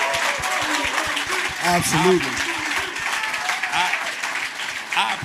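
Studio audience applause for Stephen A. on a sports talk show, a sustained crowd clapping under a voice speaking briefly.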